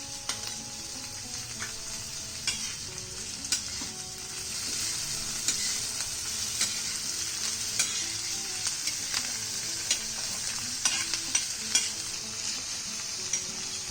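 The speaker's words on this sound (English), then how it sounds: "We need to saute all of this on high flame." Onions, capsicum and tomatoes are sautéed over a high flame, giving a steady, close sizzle with frequent small spatula taps and scrapes throughout. No one speaks.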